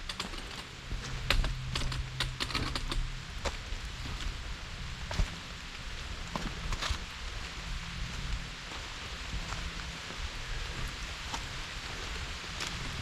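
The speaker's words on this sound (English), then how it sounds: "And the rain is picking up" Steady rain patters onto the forest canopy along a hiking trail on Virginia's Appalachian Trail near McAfee Knob, a dense continuous patter with scattered sharper drips close by, and no talking.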